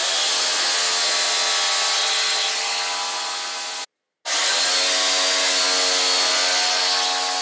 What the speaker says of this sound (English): to make the cuts, I'm just going to use the jigsaw